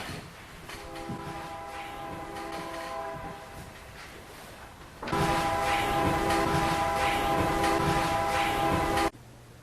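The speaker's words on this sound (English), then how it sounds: "Looks like you could hear the train whistle in the background" A train horn blowing in long sustained blasts, a first stretch of steady tone then a louder, fuller second blast of several seconds, carried over the rumble of rail cars passing at a moderate distance.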